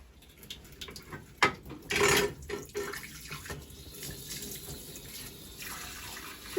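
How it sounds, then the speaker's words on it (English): Water runs from a tap while a silk screen is rinsed clean, splashing and gushing in irregular bursts with one louder surge, close by and without speech. "Just water."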